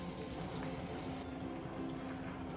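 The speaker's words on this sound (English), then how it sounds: "Okay, so now that I've added the garlic to the melted butter, make sure your flame is low and just let it simmer for a little while." Garlic simmering gently in melted butter in a pan over a low flame, giving a steady soft sizzle and bubbling hiss that stays even and quiet throughout, with no talking.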